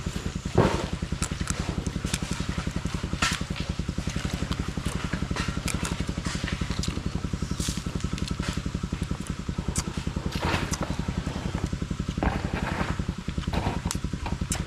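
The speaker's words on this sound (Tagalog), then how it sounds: "May makina doon, nagandar" A small engine runs steadily nearby at an outdoor cooking spot on a farm, a continuous close putter with even rapid pulses and occasional clatter and crackle over it.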